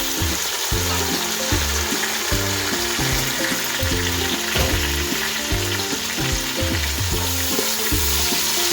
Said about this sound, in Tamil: தக்காளி போட்டு தக்காளி நல்லா குழைய வத வதங்கட்டும்